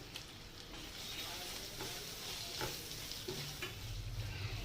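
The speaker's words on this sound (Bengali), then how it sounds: "এবার এটাকে কষাতে হবে আমটাকে হলুদ আর লঙ্কার সঙ্গে।" Raw mango frying with turmeric and chilli powder in a pan, a steady close sizzle with occasional soft stirring scrapes throughout, no voices.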